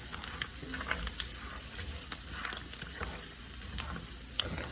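Garlic and parsley sizzle faintly in a hot cast iron pan taken off the heat, a soft steady hiss scattered with small crackles and pops.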